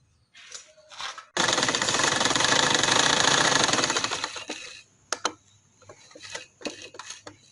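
A sewing machine runs a continuous burst of stitching on a dress button placket, a rapid mechanical chatter for about three seconds, followed by scattered clicks and handling noises.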